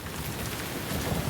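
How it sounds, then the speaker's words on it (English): A heavy storm sound effect plays, with loud, steady pouring rain and a low rumbling undertone like distant thunder, heard on its own without voices. "The storm was so strong and the rain so heavy, he could hardly see a few feet ahead of him."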